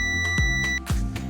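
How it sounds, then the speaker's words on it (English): An ANENG M108 multimeter's continuity buzzer sounds in short electronic beeps, close and clear, repeating several times in quick succession with no talking. "When the measured resistance is less than 50, buzzer sounds inside the meter."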